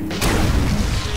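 A single gunshot fired in the video game Destiny, a sharp boom at the start followed by a rumbling tail.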